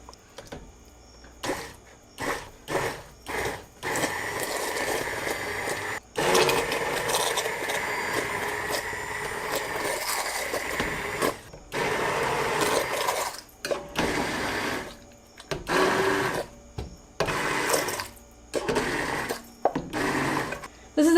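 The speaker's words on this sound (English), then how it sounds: "put the blender straight down directly on the bottom of the pot and blend like this" KitchenAid 2-speed hand blender pureeing squash soup in a tall pot, a whirring motor buzz in repeated bursts, short pulses giving way to longer runs with brief pauses between, close and loud.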